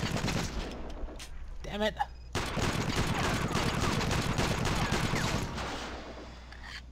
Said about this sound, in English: How are you so accurate with your stupid machine guns?